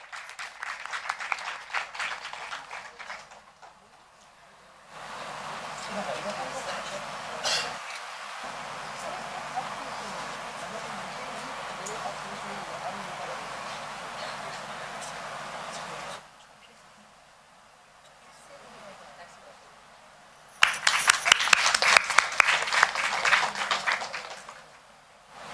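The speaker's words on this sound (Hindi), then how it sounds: "जोरदार तालियों से मैम का स्वागत कीजिए" Loud applause from a literary festival audience welcoming a speaker, in two bursts at the start and the end, with quieter murmuring and a voice in between.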